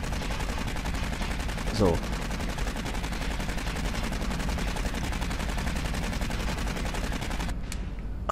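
Rapid automatic gunfire from Aliens: Colonial Marines rattles steadily throughout, dense and continuous, with a brief voice cutting in near the start and the shooting dropping off sharply at the very end.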